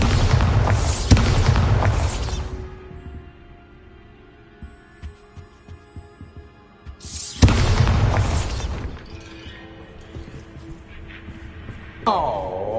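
Bombarda explosion spell in Hogwarts Legacy, two loud booming blasts several seconds apart, each fading into a low rumble, with a quieter rattling tail between them.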